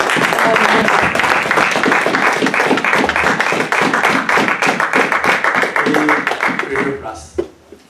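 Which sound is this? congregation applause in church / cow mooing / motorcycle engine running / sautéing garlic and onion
congregation applause in church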